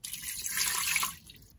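One cup of water poured into an Instant Pot with a trivet inside, a brief splashing pour that swells and then trails off, fairly soft and heard alone.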